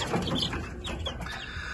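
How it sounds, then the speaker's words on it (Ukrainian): Seven young chicks cheep faintly alongside a hen's soft clucks in a brief, quiet moment indoors. "Семеро таких наших курчат, що мені передали."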